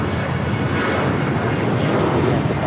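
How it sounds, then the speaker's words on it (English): Alaska Airlines Boeing 737-900ER jet taking off, its engines a steady, loud, broadband roar held throughout with no voices. "Taking off Alaska Airlines 578, taking off to Portland on the 737-900ER"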